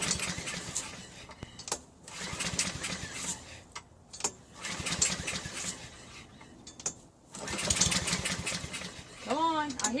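A Honda HRN216 lawn mower engine, primed with two-stroke mix, sputters and tries to start in short bursts, with pauses between pulls and a brief whine near the end.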